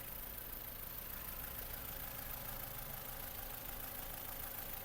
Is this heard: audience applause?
no